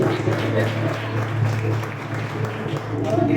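Portuguese-speaking church congregation applauding during a worship campaign service, a continuous patter of clapping under a voice and a steady low hum.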